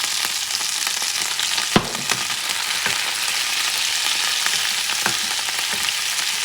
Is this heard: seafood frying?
yes